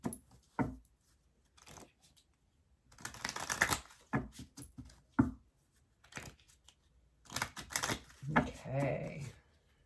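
A Moonology oracle card deck is shuffled in several short bursts of riffling and flicking cards, close up, separated by pauses with no talking.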